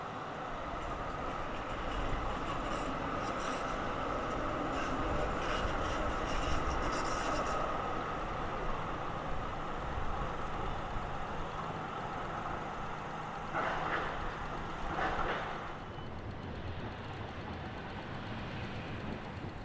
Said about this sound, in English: another B graciously slides through the curve from William Street, Flinders Lane and into Market Street.